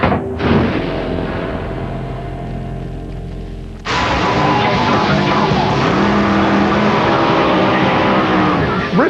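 Race cars roar past up close, a loud sustained engine drone that shifts abruptly to a higher, harsher revving about halfway through, with pitch sweeps as the cars accelerate and pass.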